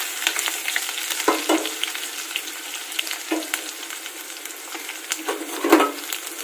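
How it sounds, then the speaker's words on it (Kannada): Onion and carrot sauté in a hot pan for cabbage masala rice, giving a steady close sizzle broken by occasional scraping stirs and clicks of a utensil against the pan. "ಈರುಳ್ಳಿ ಕ್ಯಾರೆಟ್ ಅನ್ನ ಹಾಕಿ ಬಾಡಿಸ್ಕೊಳ್ತಾ ಇದ್ದೀನಿ ನೋಡ್ಬೋದು"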